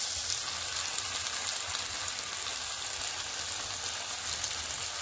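Chopped tomatoes frying in a pan give a steady, soft hiss of sizzling that runs evenly throughout without a break.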